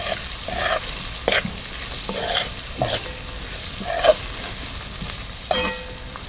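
Val birde beans stir-fried in a spiced tempering, a continuous loud sizzle broken by repeated scraping stirs of a spatula in the pan, no talking.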